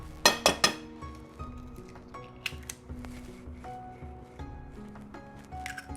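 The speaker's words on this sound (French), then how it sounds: "Ensuite, vous allez casser un œuf." An egg cracked against a bowl for a Japanese karaage chicken marinade, three sharp close taps in quick succession, then softer clinks and small kitchen sounds.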